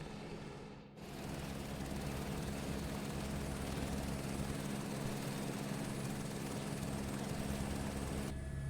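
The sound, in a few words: helicopter flying in video game Microsoft Flight Simulator 2024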